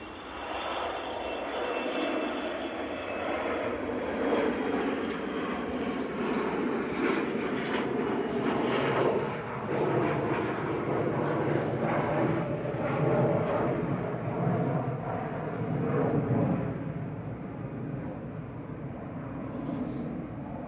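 An airliner departing Manchester Airport for Aberdeen, a long steady engine roar from a distance that holds level for about twenty seconds, with no voices over it.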